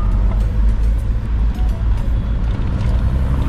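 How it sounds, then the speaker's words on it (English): A classic MGB with its B-series engine rumbles steadily and loudly close by, a continuous low drone with road and wind noise during a classic car cruise. "Lovely B-series rumble from the MGB."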